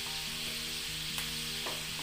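Okra (bhendi) fries in a pan with a steady, close sizzle that stays even throughout, with faint stirring and no voices.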